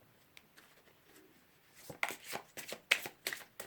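Cards being shuffled for a card draw, a quiet riffle and a series of crisp flutters and snaps that grow denser toward the end, close by and alone.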